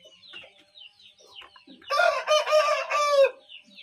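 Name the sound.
chickens clucking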